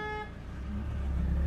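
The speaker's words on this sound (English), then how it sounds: "And they honk all the time." A car horn toots briefly at the start amid English road traffic, then a low engine rumble grows louder and fills the rest.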